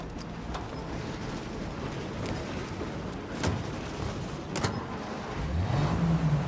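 A car driving in Mafia: Definitive Edition, a quiet steady engine drone with road rumble, a couple of faint thumps and a rising engine tone near the end, no talk.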